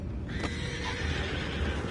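A horse in the video game Red Dead Redemption 2 lets out a loud whinny with a rising then trailing neigh, over a constant low rumble of ambient background.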